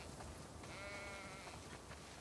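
A single faint sheep bleat, drawn out for about a second, sounds in The Last of Us Part II over a quiet ambient background.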